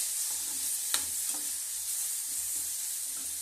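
Cluster beans stir-fry for chutney in a hot pan, giving a steady, moderately quiet sizzle with occasional soft scrapes and taps from stirring, with no talking.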